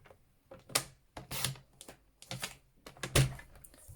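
Cardstock for card making is trimmed on a paper trimmer, a series of short scraping slices and taps, close and fairly quiet, with no talking.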